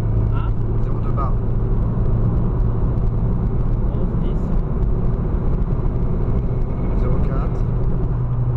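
A turbocharged BMW E36 318is engine drones in a low, steady rumble close by, with voices talking over it.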